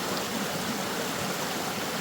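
Fast-flowing stream water in Haines, Alaska, a steady broadband rush heard from a little distance, continuous and even with no voices over it.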